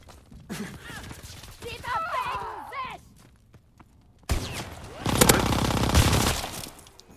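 Rapid automatic bursts from an M1928 Tommy Gun in Call of Duty WW2 gameplay, with a loud, dense volley in the second half after a stretch of quieter game sounds, and a voice talking early on.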